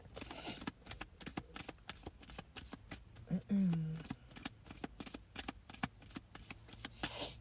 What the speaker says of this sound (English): I'm being guided to shuffle 3 times.